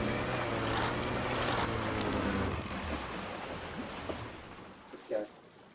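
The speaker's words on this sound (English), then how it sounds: "He started the engine." Small boat engine droning on open water, a low steady rumble mixed with wind and waves, with voices talking over it and a few bumps near the end.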